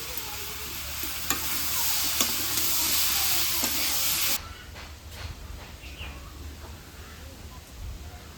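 Potatoes and fish curry with garlic and onion paste and chopped tomato sautéing in oil, a loud steady sizzle with stirring scrapes for about four seconds, then dropping to a quieter crackle.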